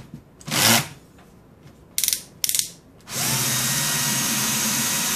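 Long screws holding the scale of a GAC500 XT unit being removed with a power screwdriver: a short whir, two quick ratcheting bursts, then a steady close motor drone.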